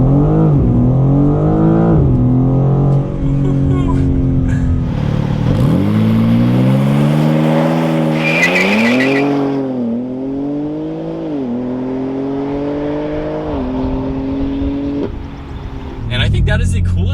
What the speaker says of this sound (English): we're gonna do a launch control in this